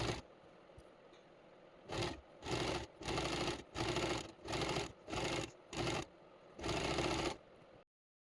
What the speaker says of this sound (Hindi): अब हमने इस पट्टी को सिल लिया है।